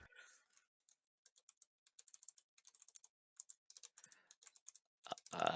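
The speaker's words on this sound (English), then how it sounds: "Everyone can hear the clack of my keyboard." A computer keyboard clacks under fast typing, with quick irregular bursts of crisp keystrokes, close and fairly quiet, separated by short pauses.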